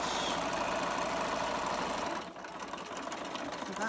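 A sewing machine runs steadily, straight-stitching the side seam of a thin cotton scrubs bag, a continuous close mechanical whir that drops in intensity partway through as the stitching slows.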